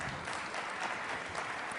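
An audience at a 2008 debate on the existence of god and the role of religion applauds, a steady wash of many hands clapping at close range.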